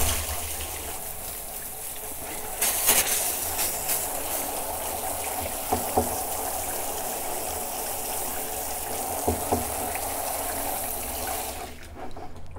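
A toilet scrubber scours the inside of a plastic rain barrel, giving a continuous wet, swishing rush with a few sharper scraping bursts, close and fairly loud, before it suddenly cuts off near the end.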